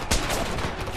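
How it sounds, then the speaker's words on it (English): A single loud gunshot crack in Homefront opens the moment, followed by a short spray of fainter shots and echoing battle noise. "I'm being shot at!"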